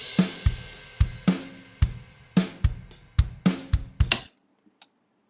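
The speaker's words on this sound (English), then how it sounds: "So here I have my drummer. It sounds like this." A GarageBand drummer track plays a steady programmed drum beat at 110 beats per minute in 4/4, with punchy kick and snare hits and cymbal wash, then stops abruptly and leaves a short silence.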